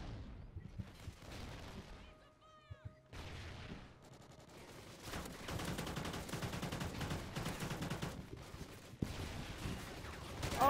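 Gunfire in Call of Duty: Ghosts on a Safeguard match: scattered shots at first, then dense, sustained automatic bursts and explosions that stay loud through the second half.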